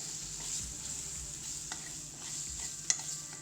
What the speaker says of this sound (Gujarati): મગની દાળ, સારી રીતે મિક્સ કરી લેવી